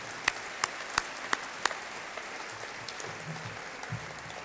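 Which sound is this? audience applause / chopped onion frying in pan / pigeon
audience applause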